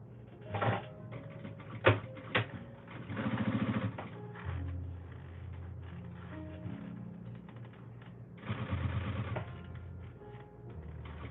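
A sewing machine stitches a fabric bag, running in short whirring bursts with pauses and a few sharp clicks between, close and moderately loud with no talking.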